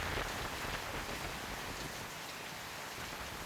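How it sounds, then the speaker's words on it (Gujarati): Steady rain falls across villages around Savarkundla in Amreli district, Gujarat, a dense, even hiss of drops on surfaces that holds at one level throughout, with no voices. "વરસાદ વરસી રહ્યો છે."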